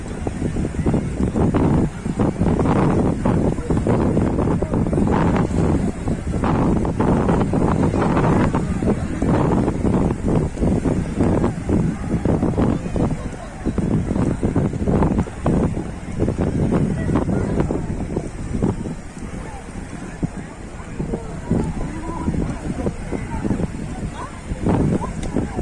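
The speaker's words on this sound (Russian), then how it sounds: "Ну, ветер сильный." Strong wind roars and buffets the microphone continuously, a dense, loud rumble with gusting surges throughout.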